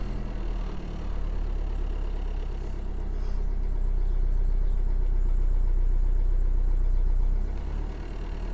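A 1971 Citroën DS/ID engine idles close by with a steady, low rumble that holds evenly throughout, with no voices.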